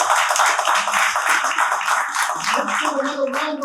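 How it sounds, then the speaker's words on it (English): Audience applause at a panel discussion with fathers of NBA basketball players, a dense, sustained round of clapping from a crowd, with some voices beneath it toward the end. "give another round of applause for Eric Hicks and the game all the team."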